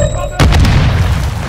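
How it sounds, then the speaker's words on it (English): A grenade blows up in an online multiplayer shooter match, a sudden loud boom that cuts in sharply after a quiet moment and then rolls on as a heavy, sustained rumble. "I just took a grenade to the face."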